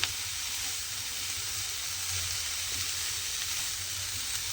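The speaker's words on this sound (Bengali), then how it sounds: "এইভাবেই কিন্তু শাকটাকে একটু নেড়ে নেড়ে রান্না করে মানে ভাজা করে নিতে হবে।" Radish greens fry in a pan while being stirred, giving a continuous close, steady sizzle and hiss with soft scraping under it, no voices.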